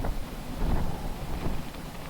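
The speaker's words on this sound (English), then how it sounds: "looking at 35, 40 mile an hour gust out here" Strong gusts of 35 to 40 mph roar outdoors beside a clam ice-fishing shelter, a steady broadband rush that swells and eases in waves, buffeting close to the microphone.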